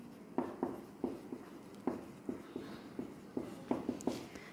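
Chalk or marker tapping and scratching on a classroom board during a biology lesson, in short irregular strokes and taps, close and moderately soft, with no voice.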